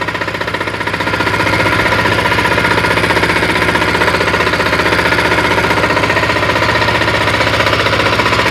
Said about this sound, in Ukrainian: Як працює дизель Вейма?